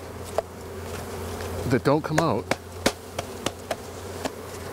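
Bees buzz around a hive outdoors on a warm day, a steady drone with wavering pitch swells and short sharp clicks, while someone briefly speaks over it.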